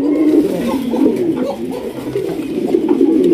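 Several pigeons coo close by in soft, overlapping, throaty murmurs that go on without a break.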